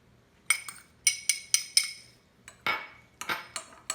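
A metal spoon clinks sharply against a bowl while stirring cheese into microwave mac and cheese, a series of bright taps about a half-second apart, close and clear with no talking.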